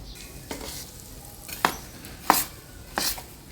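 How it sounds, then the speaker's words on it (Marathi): Hot oil hisses and sizzles in a pan while spices for mango pickle are stirred in, with a few soft scraping strokes and sharp sputtering bursts rising over a steady low crackle. "मस्त आवाज येतोय तेल म्हणजे छान गरम आहे"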